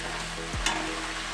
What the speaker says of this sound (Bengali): এবার সমানে নাড়াচাড়া করে এটাকে আমি ভাজা ভাজা করব।